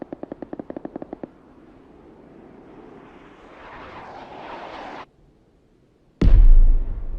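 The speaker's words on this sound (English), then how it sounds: "Fire again." Mortar firing in the PUBG video game: a quick run of sharp mechanical clicks, then a rising whistling rush, a short silence and a loud, heavy blast at the end, with no voices.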